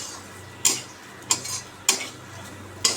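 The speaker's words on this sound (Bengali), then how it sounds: "এটা আজকে আমি করে নিচ্ছি আলু দিয়ে ভাজা করলে" Bitter gourd with potato sizzles steadily in a pan while a utensil scrapes and stirs in four sharp, spaced strokes.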